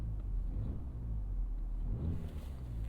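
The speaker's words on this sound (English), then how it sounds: "Let's get some revs up in here." A 2025 Mazda 3 with a 6-speed manual revs in place, heard from inside the cabin as a low, steady engine rumble that swells slightly, fairly quiet and continuous.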